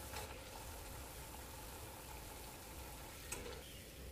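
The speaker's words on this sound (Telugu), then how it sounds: "ఒక్కొక్కటిగా వేస్తూ వేయించుకుందాం." Rice flour crackers (pappu chekkalu) deep-frying in hot oil over a medium flame, a dense continuous bubbling sizzle, fairly close, with a brief louder crackle near the end.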